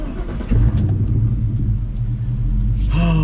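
A 1999 Mustang GT engine cranks and fires up, settling into a deep loud idle rumble, then revs briefly near the end.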